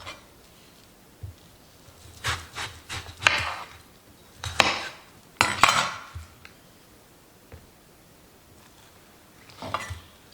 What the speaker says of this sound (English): you could put your knife inside and remove the flesh from the skin